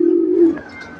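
Male pigeon in a loft giving one close, low cooing note that drops off into quieter breathy murmuring.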